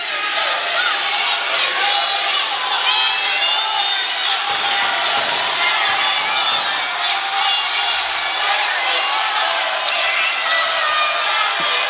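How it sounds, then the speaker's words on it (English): A dense, loud arena crowd at a wrestling match between Jerry Lawler and Mike Orlando roars, whoops and cheers continuously, with a commentator's voice running over the noise. "Absolutely, listen to this crowd."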